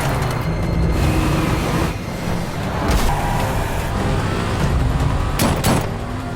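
Cars roar close by in a film car chase, engines surging and passing, with sharp impact-like bursts and bangs scattered through the loud, busy traffic noise.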